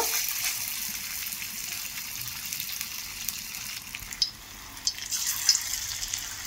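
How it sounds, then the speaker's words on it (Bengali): Banana flower fritters drop one by one into hot oil, a continuous soft sizzle and bubbling frying sound with a few louder pops as pieces go in, no voice. "বন্ধুরা তেল গরম হয়ে গেছে, এরপর একটা একটা করে বড়া তেলের মধ্যে কিন্তু ছেড়ে দেব।"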